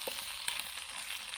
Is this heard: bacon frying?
yes